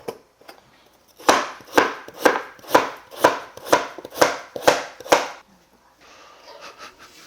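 A knife chops through potato on a board, about nine steady, crisp strokes in a row, followed by quieter handling sounds.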